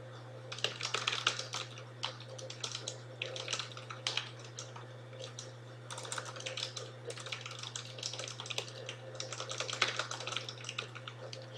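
Fingers type on a computer keyboard while a Facebook party event is set up, quick irregular bursts of close, light key clicks with short pauses over a steady low electrical hum.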